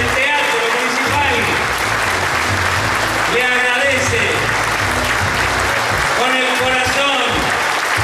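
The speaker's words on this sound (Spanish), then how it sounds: "que don Víctor se lleve el más caluroso aplauso del pueblo de Dorrego" Warm applause from a town audience in a municipal theatre in Dorrego honouring Don Víctor, steady dense clapping throughout with a voice speaking over it.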